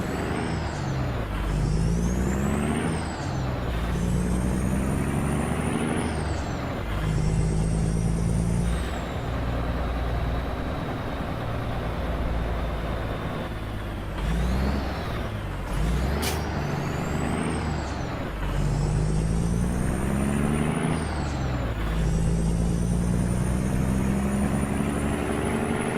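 A CAT CT660 truck in American Truck Simulator drives down the road, its engine droning and rising in pitch through repeated gear changes, with a sharp hiss partway through.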